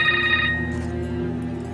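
A telephone rings in a drama scene, a short electronic ring that cuts off after about half a second, leaving a low background hum.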